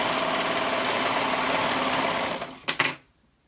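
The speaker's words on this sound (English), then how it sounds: "we're going to stitch the short ends together with a 1/2 inch seam allowance" A sewing machine stitches the short ends of a fabric sleeve band together, a steady close whirring run that slows, gives a couple of final clicks and stops into quiet.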